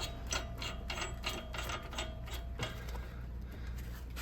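A ratchet wrench tightening the nut on a 2013 Ford Edge tie rod, steady rapid clicking of the pawl over faint background noise, close and moderately quiet with no talk.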